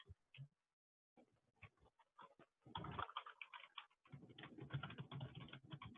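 Lines of code typed on a computer keyboard, bursts of close, quick key clicks, sparse at first and then denser and steadier, with brief pauses between runs.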